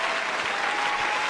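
Dense applause from a full house at a live show, a steady close wash of many hands clapping with no gaps.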